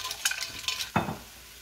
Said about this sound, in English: So now we're going to mix that together.